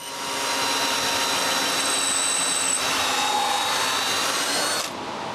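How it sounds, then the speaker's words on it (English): A power drill whirs steadily for several seconds, boring through wooden rafters with a constant grinding whine, then stops abruptly. "And while I'm at it, I drill right through the rafters."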